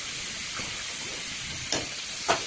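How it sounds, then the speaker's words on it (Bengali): Marinated meat frying in a hot pan, a steady close sizzle and hiss with a couple of sharper spatters near the end. "এই যে ম্যাগনেট করা মাংসটা আমি ফ্রাই করতে দিতে থাকি, দিলাম"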